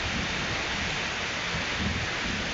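Steady rain falls in cool weather during an outdoor lunch break, a dense, even hiss that holds without pause, with no voices.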